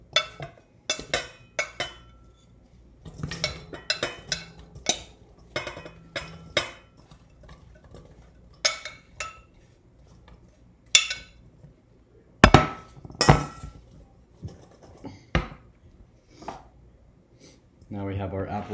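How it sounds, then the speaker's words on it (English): Apples dropped one by one into a big bowl while making apple pie, producing scattered hollow knocks and clinks, some close and sharp, with pauses between them and a few clustered thumps. "fill our big bowl with apples"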